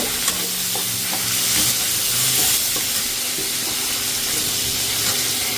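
Fish fat sizzles and spits in a wok with a chili, a steady close frying hiss with faint stirring clatter running throughout, no voices over it.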